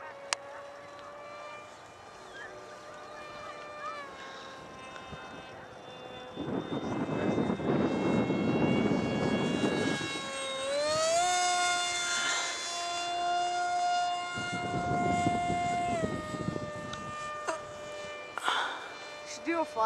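MX-1 Wolverine model aircraft flying overhead outdoors, its high-pitched engine whine rising and falling in pitch as it passes, with loudness swelling and fading over several passes.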